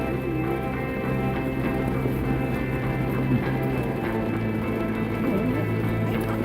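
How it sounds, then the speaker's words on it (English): Steady rain falling outside a tent at a dispersed campsite, a dense continuous patter with no breaks, close and fairly loud throughout. "Still raining pretty good right now."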